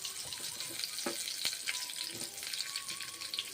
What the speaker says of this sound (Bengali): ভেজে নিচ্ছি মাশরুম